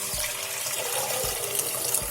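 Water poured into a cooking pan of sautéed rice for raisin rice, a steady close splashing and gurgling stream running throughout without speech.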